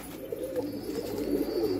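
Domestic racing pigeons in a Kerala loft coo softly and continuously, a low murmuring burble close by with no talk over it.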